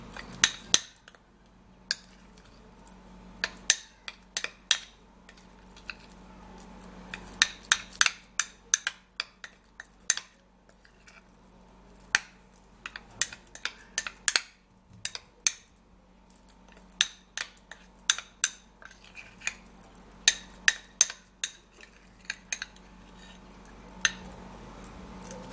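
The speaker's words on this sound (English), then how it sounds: "And then we're gonna mix and stir it up really good." A hair-removal mixture being stirred in a small bowl: sparse, irregular clinks and taps of a utensil against the bowl, close and fairly quiet, with short pauses between bursts and no voices.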